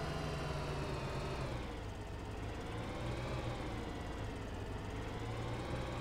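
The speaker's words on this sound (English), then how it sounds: "this JCB here has kind of become my go-to tractor for most of the stuff I'm doing" Engine of a JCB tractor idling in Farming Simulator 2013, a steady low drone with a constant rumble and no notable changes, heard alone at a moderate, even level throughout.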